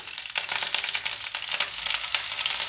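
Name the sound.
garlic paste frying in pan for dal fry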